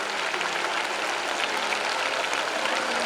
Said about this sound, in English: Appreciate us by clapping your hands.